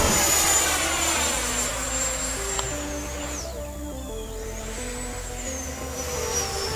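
An FMS Rafale 80mm electric ducted fan RC model jet flies past, its high whining fan sweeping up and down in pitch as it passes near and away, over a steady low rumble.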